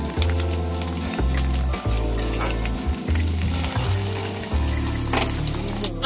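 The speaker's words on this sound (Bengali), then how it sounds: "ভাজা হয়ে গেছে, অল্প অল্প ভেজে নিচ্ছি।" Paneer fries in oil in a pan with a loud, steady sizzle and crackle, close up and continuous, with occasional stirring scrapes and no talking.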